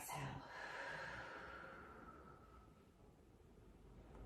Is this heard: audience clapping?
no